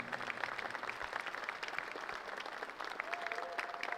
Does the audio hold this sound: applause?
yes